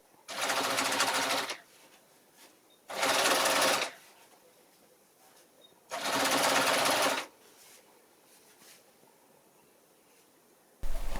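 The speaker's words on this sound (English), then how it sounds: "This Bernina sews very good on the edge." A Bernina sewing machine stitches along a fabric edge in three short, loud bursts of fast whirring separated by quiet pauses, heard up close with no talking.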